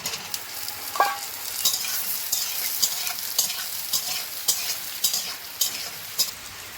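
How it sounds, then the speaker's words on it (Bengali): Chopped onions frying in oil for a Bengali fish curry with taro greens, with a steady hissing sizzle broken by repeated spatula stirs and scrapes, close and moderately loud. "এই কুচানো পেঁয়াজগুলো দিয়ে দিচ্ছি আমি তেলের উপরে। ভেজে নেব তেল দিয়ে ভালো করে।"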